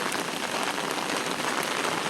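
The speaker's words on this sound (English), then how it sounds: "they have dumped out a whole bunch of rain" After severe thunderstorms in downtown Loganville, a downpour keeps falling, a loud, unbroken wash of raindrops striking the ground nearby, with no one speaking.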